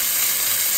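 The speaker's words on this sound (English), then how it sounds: "Now we're going to add 3 cloves of garlic and 1 teaspoon of ginger." Garlic cloves and ginger sizzle in sesame oil in a 12.5-inch cast iron skillet, giving a brief, loud, steady hiss with no pauses.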